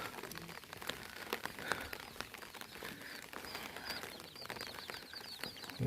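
Soft, steady rain falls in a tribal village, a faint patter with scattered drips and light taps on nearby surfaces, and no talk.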